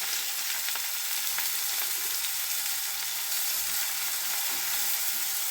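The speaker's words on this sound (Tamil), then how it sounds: "கடுகு நல்லா பொரிஞ்சிருச்சு. இப்போ நம்ம அந்த வெங்காயத்தை அதை கூட சேர்த்துக்கிடுவோம்." Chopped onions dropped onto popped mustard seeds in hot oil for a curry leaf and coriander thokku, giving a dense, continuous bright sizzle heard up close with faint crackles and no talk.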